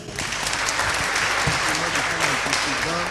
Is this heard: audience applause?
yes